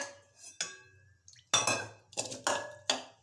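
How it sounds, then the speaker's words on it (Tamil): A cooking pot being washed after preparing mutton kulambu, with several sharp clanks and clinks of metal against dishes spaced irregularly, close and fairly quiet. "இப்போ இந்த பாத்திரத்தையும் கழுவிடுவோம்."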